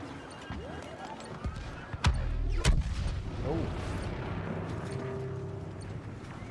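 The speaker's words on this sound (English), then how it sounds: "That's a pretty cool explosion." A booming explosion in Star Wars Battlefront, two sharp heavy blasts with a rumbling tail amid ongoing battle noise, with voices speaking over it.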